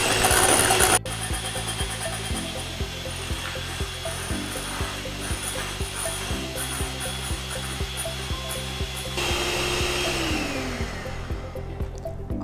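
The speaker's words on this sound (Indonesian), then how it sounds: "kita akan masukkan cream of tartarnya, dan kita akan mixer lagi sebentar" An electric mixer whips egg whites with cream of tartar and sugar, a continuous loud whirring motor hum whose pitch shifts slightly as the beating goes on, heard alone after an opening clatter.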